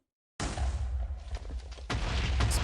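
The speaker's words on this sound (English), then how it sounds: "Explosions." Explosions in the Minecraft modpack ATM10 erupt suddenly after a short silence: a loud, rumbling burst of booms with a second blast building near the end, heard alone without talk.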